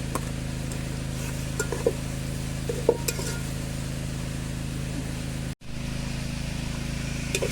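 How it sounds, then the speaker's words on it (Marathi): Onion sautéing in a pan for a riverside chicken curry in Devgad, Konkan: a steady low sizzle and hiss runs throughout, with a few light clinks of a spoon against the pan and one brief dropout near the end. "कांदो चांगलो याच्यात परतून घेऊचो लाल होईत अगत"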